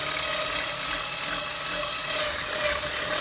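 Drill bit reaming out the mounting holes of an Ibanez guitar body or pickguard to fit thick-shafted potentiometers, a continuous close, steady grinding whir with no pauses.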